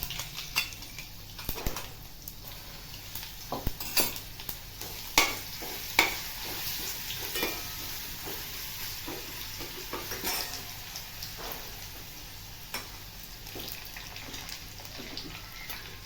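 Cumin seeds, curry leaves and ginger-garlic paste fry in hot oil for a spicy sponge gourd curry, giving a soft, steady sizzle with scattered crackles and pops, fairly quiet and close, with no talking.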